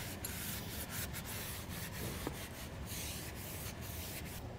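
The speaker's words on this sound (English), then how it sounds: "clean up the surface around where this new seal is going to sit" A camper roof is wiped clean where a rooftop air conditioner seal will sit, giving a quiet, continuous rubbing and scrubbing sound with repeated strokes.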